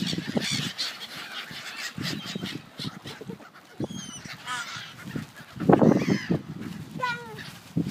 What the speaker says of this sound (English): Noisy birdies.